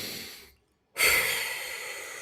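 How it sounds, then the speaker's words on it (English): Slow breath drawn in through the nose, a brief silent pause, then a longer, louder exhale out through the mouth, close and alone with no talking. "with your nose and then breathe out from your mouth."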